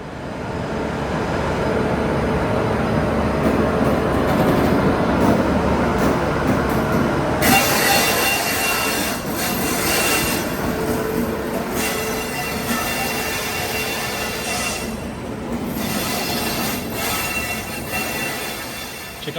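An Indian Railways Shatabdi Express passenger train roars past nearby at about 130 km/h, its loud continuous rumble and rattling carriages joined by a sharp hiss of wheels on the rails.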